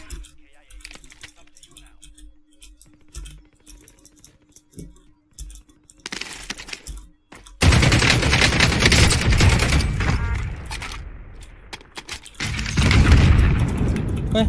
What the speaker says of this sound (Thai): เฮ้ยระเบิดใครวะ